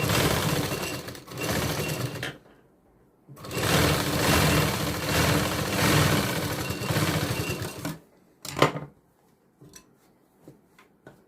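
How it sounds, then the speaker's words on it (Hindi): A sewing machine stitches blouse fabric in two sustained, even runs of fast mechanical whirring, up close, followed by short bursts and light clicks as it stops and starts. "अब यहाँ पर स्टिच करना शुरू करते हैं। सीधी स्टिचिंग करेंगे।"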